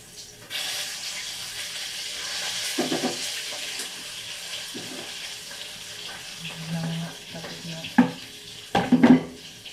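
Fish frying in a pan, with a low steady sizzle and soft stirring and scraping through the clip, then a few sharper clatters near the end. Faint voices come and go in the background.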